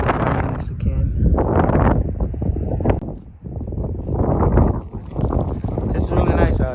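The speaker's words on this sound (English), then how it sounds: "It's really windy and it's cold" Strong, cold wind at the Grand Canyon buffets the microphone in loud, rumbling gusts that rise and fall, with no voices.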